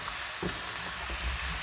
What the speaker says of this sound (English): you want to cook the mushrooms until they release their juice. So you need them on high